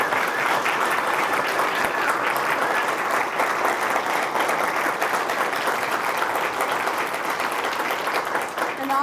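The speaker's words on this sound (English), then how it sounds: "I think he needs a round of applause." Sustained applause from a crowd at a press conference, steady and fairly close, continuing for several seconds without a break.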